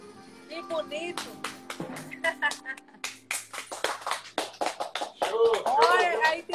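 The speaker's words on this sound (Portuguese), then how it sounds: "Olha, aí tem muitas palmas!" Many hands clapping from a crowd for an accordion player, a dense, uneven patter of applause that swells toward the end, with a voice and music faintly underneath.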